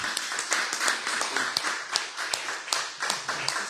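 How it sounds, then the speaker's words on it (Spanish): Audience at a round-table panel applauding the panelists, dense steady clapping from many hands throughout, fairly loud and close, with no voices over it. "Quiero pedir unas fuertes palmas para todos los ponentes."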